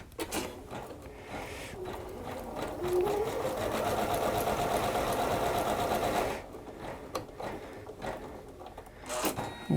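Janome 9850 embroidery machine stitching a design, a close, steady mechanical hum and rapid needle chatter that runs for several seconds before stopping, with handling clicks around it.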